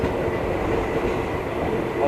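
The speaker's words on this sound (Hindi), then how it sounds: "डीज़ल जो इंजन लगा हुआ है वो काफ़ी अच्छा परफॉर्म कर रहा है, लगभग 100 स्पीड के आसपास चल रहा है।" Utsarg Express, hauled by a diesel locomotive, runs at speed on a single-line route, giving a steady, continuous rumble of wheels on rails close by, with a faint clickety-clack and no clear pauses.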